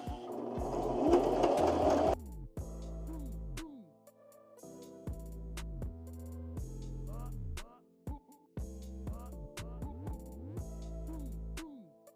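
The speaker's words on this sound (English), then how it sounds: "This one on this side, I'm gonna sew that together." A sewing machine runs a simple straight stitch through denim cut from old jeans for a tie project, a loud steady whir lasting about two seconds before stopping, followed by melodic background music.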